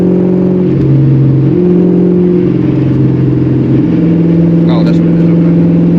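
A 1999-2004 Ford Mustang engine runs loud and near, holding high revs with a droning, shifting pitch, while people talk over it.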